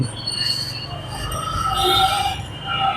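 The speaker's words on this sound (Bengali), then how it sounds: "এই শব্দটা হচ্ছে ট্রেন আসার একটা ইন্ডিকেশন" A railway crossing signal warns of an approaching train at a level crossing on a road travelled by motorbike. Steady high-pitched tones ring over a low rumbling background, with no talking.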